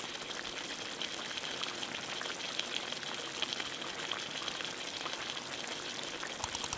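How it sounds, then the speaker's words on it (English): Stock simmering in a pot on a stove gives off a steady, faint bubbling hiss that stays even throughout, with no one speaking. "Once it comes to a boil, you're going to turn down the heat and let it simmer."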